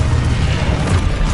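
A spell explosion in the video game Hogwarts Legacy lands as a loud, dense booming roar with heavy low rumble, sustained through the moment without a break.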